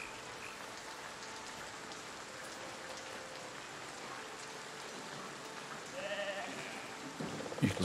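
Steady rain hisses evenly throughout the medieval building game Foundation, with a faint animal bleat and some thumps rising near the end.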